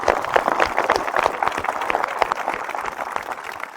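Audience applause at a Republic Day event with Assam Regiment Agniveers, dense steady clapping throughout at moderate volume, a faint voice mixed in.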